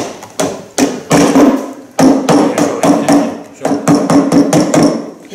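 A hammer drives nails into a shoe in quick, uneven taps and knocks, close and sharp, with brief pauses between bursts.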